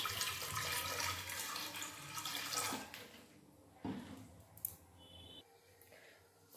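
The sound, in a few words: water being added into a pressure cooker for tadka dal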